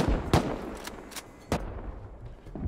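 Automated turrets firing in the Rust survival game, heard as four sharp, separate shots spaced about half a second apart over a steady background hum.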